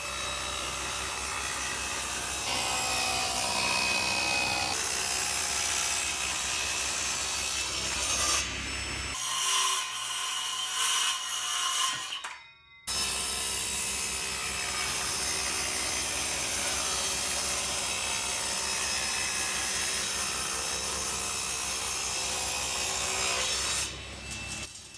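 Wooden seat slats for an Adirondack chair being cut on a power saw, a continuous loud, close whine and rasp with a brief pause partway through before cutting resumes.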